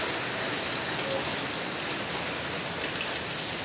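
Steady, dense rain pours down in a constant wash of hiss, loud and even throughout, with no clear voices over it.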